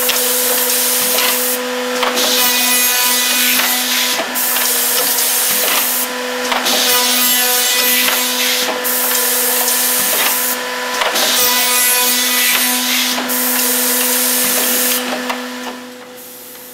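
An Accu Systems CXT woodworking machine runs loudly and continuously, a steady motor whine and cutting roar with regular surges every few seconds, fading slightly at the end.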